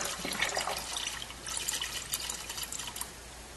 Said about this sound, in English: what you can do is take the oil out from on to off. Let the fryer drain.